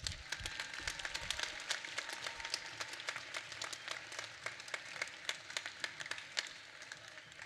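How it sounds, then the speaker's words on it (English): A crowd applauds at a robotics district closing ceremony in a large arena, with scattered, distant clapping and sharp individual claps continuing steadily and faintly. "Round of applause."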